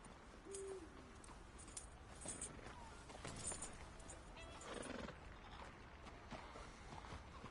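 A horse in Red Dead Redemption 2 whinnies briefly near the start, and steady clip-clopping hooves follow beneath constant outdoor game ambience. Nobody speaks.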